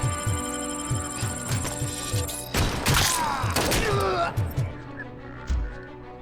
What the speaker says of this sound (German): Die schießen aber jetzt mit panzerbrechender Munition, das ist nicht so toll.